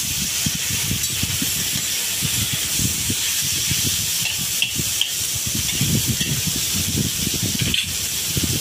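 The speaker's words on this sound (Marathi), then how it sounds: "भाजून घ्यायचं, लालसर भाजून घ्यायचं" Tomatoes roasting in a pan until soft and reddish for egg curry: a steady close sizzle and hiss runs throughout, broken by frequent irregular scraping and rustling stirs, with no voices.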